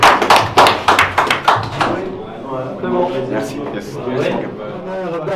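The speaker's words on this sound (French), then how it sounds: "Applaudissements." Brief audience clapping bursts sharply at the start for about two seconds, then gives way to someone speaking over a room murmur.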